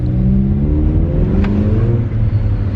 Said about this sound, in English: It's literally just clean exhaust